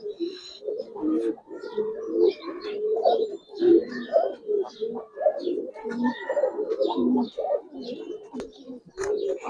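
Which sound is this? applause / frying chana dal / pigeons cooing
pigeons cooing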